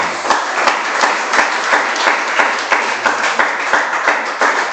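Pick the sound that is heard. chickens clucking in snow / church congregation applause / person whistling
church congregation applause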